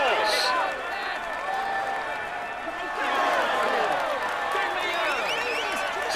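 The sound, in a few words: crowd applauding the Tour de France stage winner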